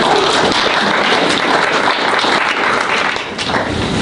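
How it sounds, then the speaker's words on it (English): Audience applause greeting the next speaker at an academic colloquium session, a dense, steady wash of many hands clapping close and loud for about four seconds with no talk over it. "Can we give a round of applause to our next speaker?"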